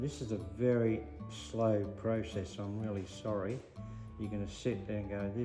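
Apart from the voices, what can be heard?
No distinct noise like a dog, phone or traffic.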